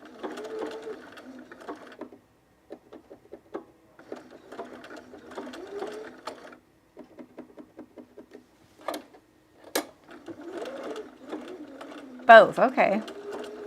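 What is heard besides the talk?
cover stitch sewing machine sewing underwear elastic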